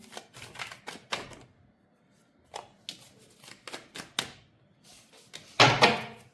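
A deck of tarot cards is shuffled and cards drop loose, giving a series of short papery flicks and taps spaced irregularly, ending in a louder riffling burst.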